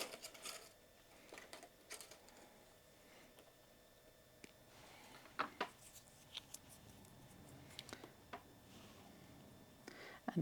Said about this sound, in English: I'm going to cut the 4mm wire.